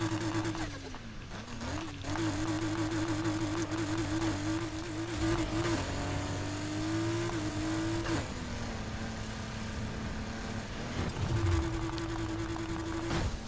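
A car engine in Need for Speed Heat holds a steady droning note while being driven off-road, pitch shifting up and down with throttle changes, continuous and fairly loud throughout.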